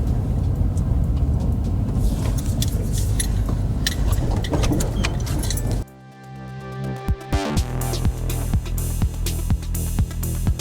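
A carbureted car is driven a short way, its engine rumbling steadily before the sound drops off abruptly, followed by a quieter run of sharp rhythmic ticks and clinks.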